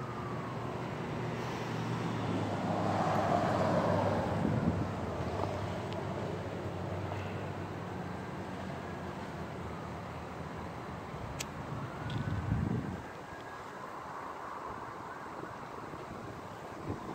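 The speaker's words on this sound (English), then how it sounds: "Windy." Wind blows steadily outdoors, a broad rushing roar buffeting the microphone with gusts that swell and ease, and a low rumble that briefly surges near the end.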